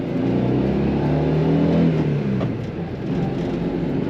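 Small engine of a 1958 BMW Isetta 600 humming steadily while driving, a close, continuous low drone with a smooth, even tone.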